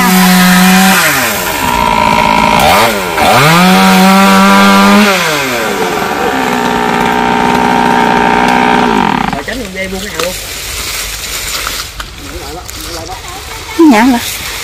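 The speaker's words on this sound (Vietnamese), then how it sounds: "cưa những cây xà cừ này như thế nào nha" A chainsaw cuts overhanging branches of a khaya tree near power lines, its engine rising and falling through several loud revving passes, then dropping to a rougher idle with brief voices near the end.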